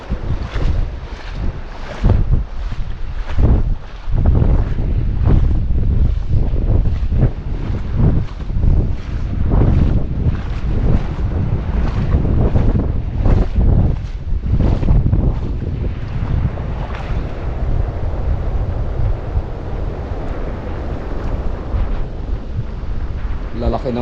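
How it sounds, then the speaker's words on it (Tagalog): Strong wind buffets the microphone over large sea waves crashing and surging at a coastal fishing spot near a river mouth, a loud continuous roar with rhythmic bursts throughout, voices faint beneath. "Lalaki ng alon."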